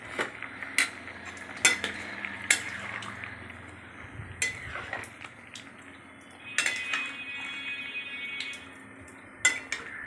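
A spoon stirs a blended ginger-chili paste and sesame paste into a simmering curry with lentil fritters and potatoes, giving sharp metallic knocks against the pan over a soft bubbling sizzle.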